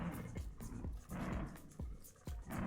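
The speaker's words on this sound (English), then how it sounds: "I hear Doggo." A dog making a few short noises in a livestreamed game, soft, spaced-out low calls that come every half second or so under quiet background sound.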